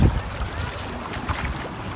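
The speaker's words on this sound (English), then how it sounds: "There we go, some waves to bring me back in." Small waves lap and slosh around an inflatable river tube floating on water, a steady close splashing with gusts of wind noise on the microphone and no talk.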